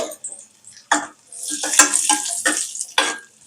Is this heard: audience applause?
no